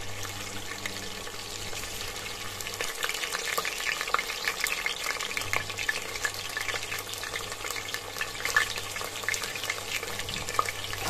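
Chopped onions fry in hot oil in a pan for a dal gosht, a dense, continuous crackling sizzle holding steady at close range with a low hum underneath.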